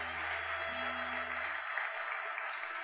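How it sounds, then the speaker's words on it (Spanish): Applause for technologist graduates in tax and financial management at a graduation ceremony, a dense, even wash of clapping with a low hum under it that drops away partway through. "El aplauso es para ellos"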